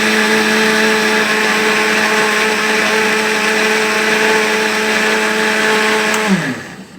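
A blender whirs loudly and steadily for several seconds, churning a watery mix of paper and water, then winds down and stops at the end.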